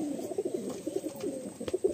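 Madrasi pigeons in a loft coo in soft, repeated throaty calls close by, a low burbling pattern of short notes over quiet background.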